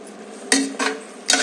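Chicken for biryani is mixed in a pot, giving three short scraping, clattering bursts of a utensil against the metal, loud and close, with no one speaking.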